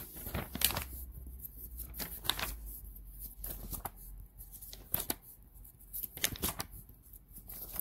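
Glossy pages of a home-furnishings catalog are riffled and flipped in repeated quick bursts, the crisp paper swishes and flutters close by and fairly quiet, separated by brief pauses.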